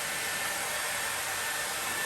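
Panasonic Nanocare EH-NA0G hair dryer running steadily while drying hair, a continuous loud airy whoosh with a faint high whine, close and unbroken, no voices.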